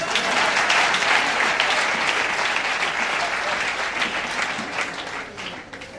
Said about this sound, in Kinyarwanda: Tubakomera amashyi, baragarutse.